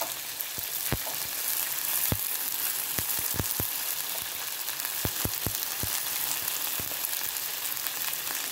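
Chopped ora-pro-nobis leaves and green onion fry in hot oil, a tambaqui fish frying nearby, making a constant even sizzle with scattered sharp ticks and taps of a utensil, no talking.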